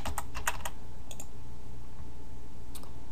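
Fingers type a password on a computer keyboard during software setup, a few quick clusters of close key clicks with pauses between them, over a steady low hum.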